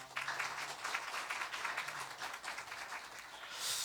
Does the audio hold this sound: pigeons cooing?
no